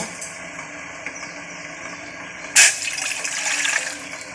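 Quiet room tone, then a sudden gush of water, three glasses' worth, pouring into a vessel for a homemade herbal kashaya, continuing steadily to the end.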